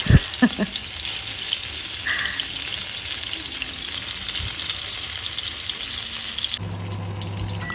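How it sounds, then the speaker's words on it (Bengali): Hilsa fish fries in mustard oil with dried chillies, a steady close sizzle and crackle with a few sharp pops at the start and a lower rumbling shift near the end. "আগে একটু শুনে নিই ভাজার আওয়াজটা"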